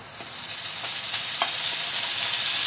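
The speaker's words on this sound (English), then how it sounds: "So we can pop the bacon in and get that frying" Bacon sizzling in a hot frying pan, a loud, steady hiss of frying fat that builds slightly, with a few faint clicks of the strips being moved around.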